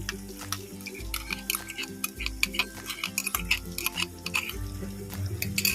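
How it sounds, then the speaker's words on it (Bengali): Spiced masala with beaten yogurt is stirred in a pan over a low flame for doi paneer, a spoon scraping and clicking against the pan in a quick, irregular rhythm, close and steady. "এবার এটাকে ভালো করে কষিয়ে নেব একদম লো ফ্লেমে"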